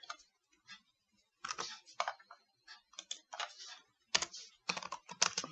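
Typing on a computer keyboard, with close, quiet clusters of key clicks in irregular bursts separated by short pauses.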